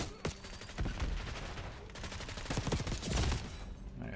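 Rapid bursts of M4 rifle fire from the Call of Duty Black Ops 6 video game, several loud automatic volleys with short gaps, fairly close.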